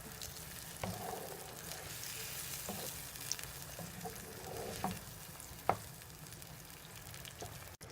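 A sauce for Pakistani-style chicken simmers quietly on low heat in a pan, giving a steady soft sizzle with a few brief stirring clicks and scrapes.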